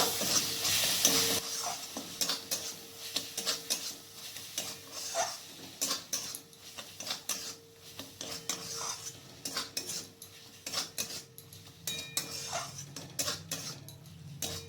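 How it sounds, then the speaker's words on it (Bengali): Spoon stirring soybean curry as masala fries in a pan, with Kitchen King spice just added; steady sizzle under repeated scraping and clinking strokes, close and continuous, no voices. "এরপর দেব 1 চামচ কিচেন কিং মশলা। এরপর ভালো করে মিক্স করে নেব।"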